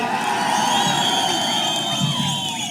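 Dense crowd noise at an outdoor BJP political road-show rally in Hoskote, Karnataka, with sustained cheering, whoops and scattered shouts rolling continuously and loudly throughout, no speech over it.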